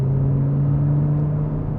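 An Audi R8 with its Lamborghini engine gives a loud, close, steady low drone that holds a deep rumble throughout, with no talk over it.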